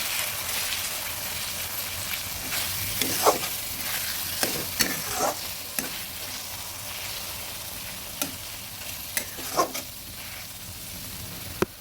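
Stirring tomato into an ilish fish head and taro curry in a pan, a steady sizzle with scattered scraping clicks of the spoon, moderately quiet and without talk.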